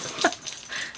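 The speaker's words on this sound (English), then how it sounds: "Can you hear my dog?" A pet dog lets out a single short, high whimpering yip, close by and fairly faint, with quiet room noise around it.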